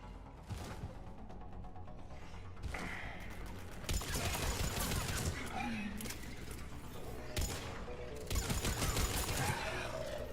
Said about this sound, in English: So what you mean is you can hear gunshots, essentially.